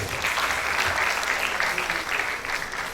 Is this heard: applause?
yes